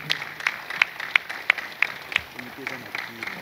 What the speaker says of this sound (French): Quand il se met debout, acclamons très très fort pour l'autre.